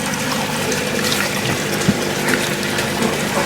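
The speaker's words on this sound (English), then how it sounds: "I've connected the pump, and right now it is pumping, and it's just starting to come out there at the base of that" A fish tank filter pump pushes water out the base of a pipe, giving a steady close wash of running, splashing water with no pauses throughout.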